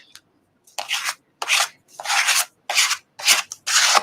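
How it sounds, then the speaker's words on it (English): A credit card scrapes wet paint across a paper page in about six separate rasping strokes, each lasting roughly half a second. The strokes are close and distinct, with silent gaps between them. "scrape it with a credit card"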